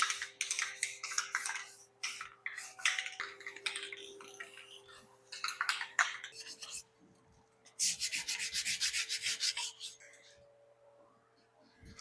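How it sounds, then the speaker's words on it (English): Scratchy sanding strokes rasp in repeated bursts against a low steady hum as paint is sanded off a JC Higgins bike frame, with a quiet voice speaking in between. "As I'm sanding this"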